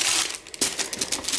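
Dior tissue paper crinkles during a luxury unboxing, bright papery rustles with a sharp crunch near the middle, close and loud in a brief burst.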